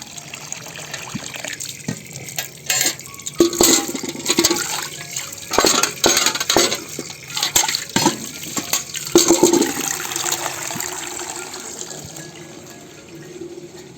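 Tap water runs into a bucket at home, a steady rushing and splashing stream with clattering knocks, moderately close and continuous, with no talk.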